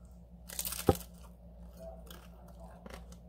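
A close, single crunchy bite into a fried tostada topped with cheese and salsa, followed by a few faint chewing crunches, quiet and without talk.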